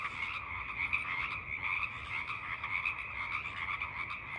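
Frogs croak at night in a continuous chorus, a steady pulsing trill from many animals at moderate distance, with no talking over it.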